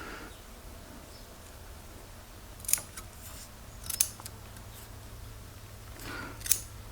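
Scissors snip through vinyl covering being trimmed for an MGA car door, three short separate cuts at close range in a quiet room.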